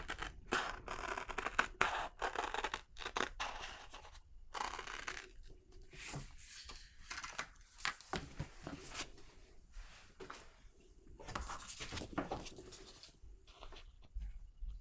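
Scissors snipping through paper to trim out a piece for paste printing, a long run of close, crisp cuts in irregular bursts with short pauses between them.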